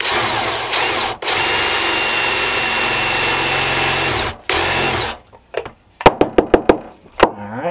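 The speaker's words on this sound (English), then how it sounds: "So I'm going to go ahead and drill her eyes out." A power drill whines steadily as it bores eyeholes into a wooden nutcracker figure, with a brief pause before stopping, then a series of sharp knocks and taps close by.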